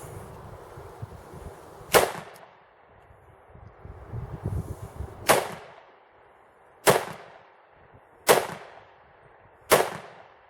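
Five sharp pistol shots from a Glock 33 chambered in .357 SIG at an outdoor range, spaced about one to three seconds apart, each a loud crack with a short echo tail and quiet rustling between them.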